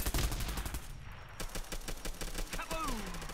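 A grenade blast and surrounding gunfire in the online shooter Bullet Run, with dense crackling shots and bursts throughout.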